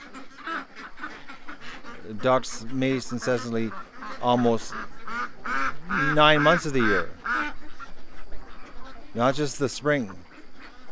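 Ducks quack and honk in bursts near a person who keeps talking through much of the noise, with the calls coming in uneven clusters.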